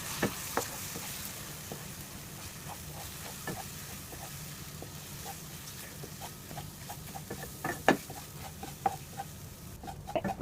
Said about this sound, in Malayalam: ഈ മുട്ടയെ നമുക്ക് സ്ക്രാമ്പിൾ ചെയ്തെടുക്കാം